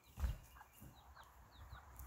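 A hen clucks softly a few times close by, with a louder low thump near the start and some faint chirps over a quiet farmyard background.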